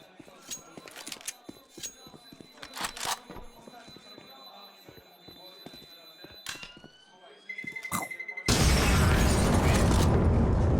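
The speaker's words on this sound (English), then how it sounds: "That was the bomb going off." Bomb exploding on the Overpass map in Counter-Strike during a pro esports match, a sudden loud, broadband blast that fills the end of the clip after a busy stretch of sharp clicks, gunfire-like cracks and a rising beeping tone.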